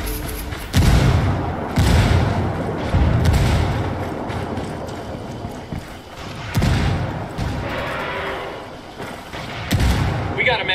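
Heavy booming blasts from grenade explosions in a video game, several deep thuds spaced a few seconds apart, loud and close, with voices talking between them.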